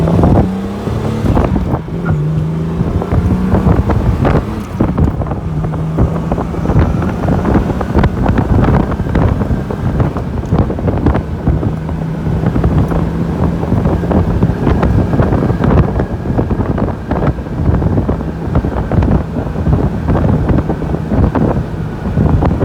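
A 1967 Jaguar 4.2-liter Series 1 Roadster accelerates along a farm road, its engine droning steadily under heavy wind buffeting from the open car, loud and continuous without a break.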